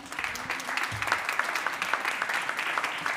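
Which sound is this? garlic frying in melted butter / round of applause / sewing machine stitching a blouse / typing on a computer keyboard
round of applause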